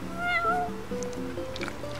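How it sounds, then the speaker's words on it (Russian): A cat in the Final Fantasy XV video game meows several times in quick succession, its rising and falling calls clear over a steady low game-music bed. "Целый квест кошки."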